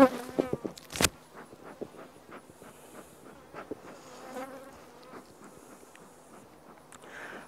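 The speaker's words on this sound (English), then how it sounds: "A really aggressive bee." An aggressive honeybee buzzes close around a beekeeper working hives without a bee suit, its whine rising and falling in repeated passes near the ear, with a few sharp handling knocks at the start and no talk.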